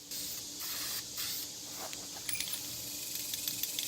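Aerosol can spraying Ford gray paint on a diesel Ford truck part, a steady close hiss in short bursts with brief pauses, followed by light rattling.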